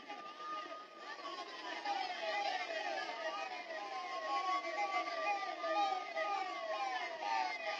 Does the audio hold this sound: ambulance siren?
yes